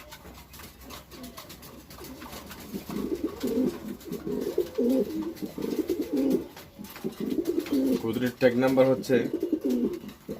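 A racing pigeon of the Huben and Koopman line, ringed 2021, coos softly in bursts while someone talks close by throughout.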